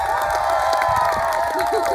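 An audience applauds and cheers as actors take a quick bow at a theatre performance of A Midsummer Night's Dream, a dense crowd wash with tonal sound layered through it.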